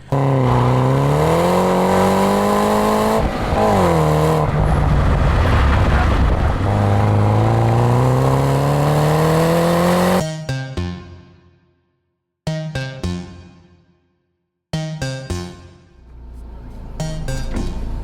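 A Mini Cooper GP accelerates hard nearby, its engine note climbing loudly through the revs, then breaking off at sharp gear changes with brief drops before it pulls again.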